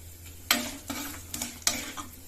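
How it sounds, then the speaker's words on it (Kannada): A green chilli goes into hot oil with curry leaves for a tempering while making puliyogare gojju, giving a steady crackling sizzle, with several sharp spatter bursts and spoon stirs close by. "ಒಂದು ಮೆಣಸಿನಕಾಯಿನ ಹಾಕೊಂಡ್ಬಿಡ್ತೀನಿ ಒಗ್ಗರಣೆಯಲ್ಲಿ"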